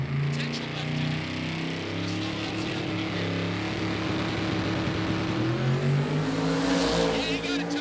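A twin-turbo LS drag car makes its pass at a drag strip event, a loud, sustained engine drone with a rising whine near the end, heard under a commentator's voice.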